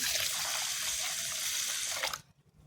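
Rice being washed by hand in water for making rice papads, a steady, close, splashing wash of water lasting about two seconds before it stops abruptly into quiet.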